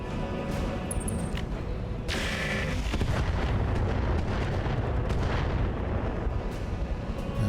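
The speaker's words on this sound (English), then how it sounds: "Rounds landing on the Lament." Rounds striking a mech in the BattleTech RogueTech strategy game, a dense continuous barrage of booming artillery-like impacts with a sharp burst near the two-second mark, loud and sustained throughout.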